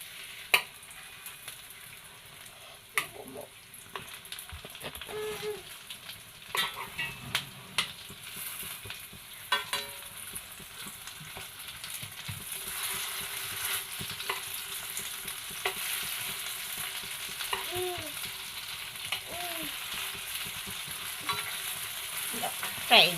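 Pumpkin pieces fry in ghee under a quiet, even sizzle while a spoon turns them, with scattered clicks and scrapes against the pan.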